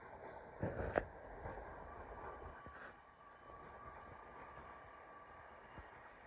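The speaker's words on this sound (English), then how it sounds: "Passing through now is a Lumo service from Edinburgh to London King's Cross." A Lumo class 803 electric passenger train runs through York station, a low rumbling roll with a brief louder burst near the start that fades to a steady, moderate background of rail noise.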